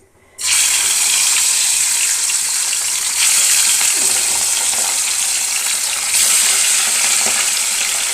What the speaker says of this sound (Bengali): এবার আমি মাছগুলো এই গরম তেলের মধ্যে দিয়ে দিচ্ছি।